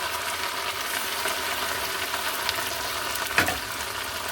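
A ginger, garlic and onion paste fries in a pan for chicken biryani, making a loud, continuous close-up sizzle with a brief scrape or stir near the end.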